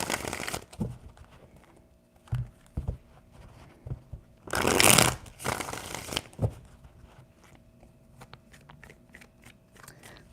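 Tarot cards being shuffled by hand, a run of short papery riffles and slaps with two louder, denser bursts in the middle, close and fairly quiet with no talk.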